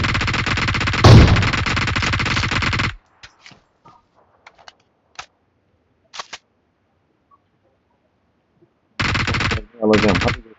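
Automatic gunfire in PUBG Mobile plays as a long, loud burst of rapid shots, then sparse faint clicks and pops, before two more short bursts of firing near the end.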